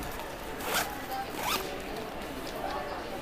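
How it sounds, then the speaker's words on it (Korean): Main zipper of an Eastpak 27-liter backpack being pulled open in a few short ratcheting zips, close and fairly quiet over a faint room hiss. "그리고 메인 지퍼를 열게 되시면"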